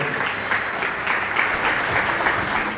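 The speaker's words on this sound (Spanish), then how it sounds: "Por favor, los recibimos con un fuerte aplauso." Loud, close applause from a conference audience welcoming fintech panel speakers onto the stage, a steady dense clatter of many hands lasting the whole stretch.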